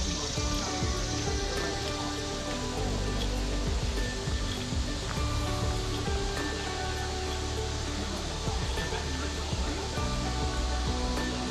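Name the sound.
waterfall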